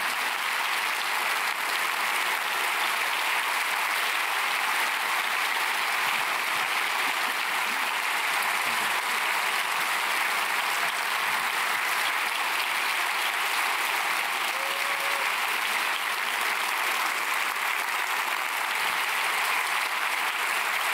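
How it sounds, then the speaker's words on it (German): A studio audience gives sustained, thunderous applause for guest Annalena Baerbock at the close of a televised talk, with dense, steady clapping going on without a break. "bitten wir Sie jetzt noch einmal um einen donnernden Applaus für unseren Gast"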